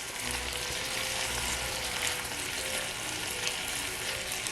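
Apples sizzle and fry with cherry and Christmas spice on a Dash Mini Griddle, a steady close hiss and crackle that holds evenly throughout with no talking.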